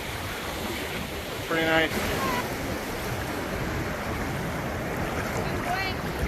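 Warm Gulf of Mexico surf at a Galveston, Texas beach, a steady wash of waves and wind noise throughout, with a person speaking briefly partway through.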